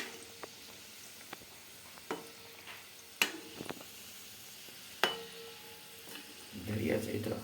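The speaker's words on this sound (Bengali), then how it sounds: "যে ফিঙ্গারগুলো আমরা রেডি করে রেখেছিলাম সেগুলো এবার এক এক করে আমরা ভেজে নিচ্ছি" Homemade fish fingers going into hot oil one at a time: scattered utensil clinks and taps over quiet background, then a dense frying sizzle swells near the end.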